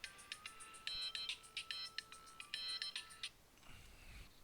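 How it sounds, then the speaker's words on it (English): A phone ringtone plays as a quick, bright electronic melody of short repeated chirping notes, fairly faint and steady, then cuts off into a low rumble. "Now I got phone calls."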